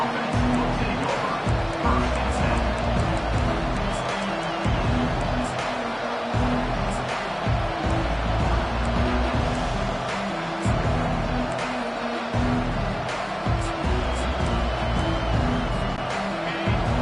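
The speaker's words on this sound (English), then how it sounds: "This crowd going to try to make life miserable for these guys." Steady roar of a college football stadium crowd at an Ohio State game, continuous and fairly loud across the whole stretch, with a commentator's voice talking over it.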